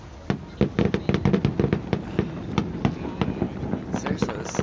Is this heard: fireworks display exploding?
yes